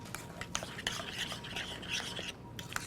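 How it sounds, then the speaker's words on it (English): Broccoli salad being stirred with dressing and salt mixed in, a steady scraping, rubbing spoon-against-bowl sound with a few sharper clinks, close and moderately quiet, with no talking. "Go ahead and start mixing that in."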